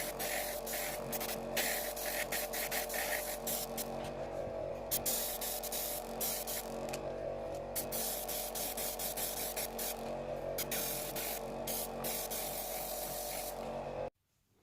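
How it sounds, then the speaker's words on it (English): Airbrush spraying Vallejo chrome yellow paint onto a model, a steady close hiss of air and paint running continuously for about fourteen seconds, then cutting off abruptly. "just going to run that through the airbrush"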